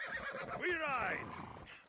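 A horse in Assassin's Creed Odyssey lets out a single rising, quavering neigh that sounds close. Faint hoof clatter and a voice sit underneath it.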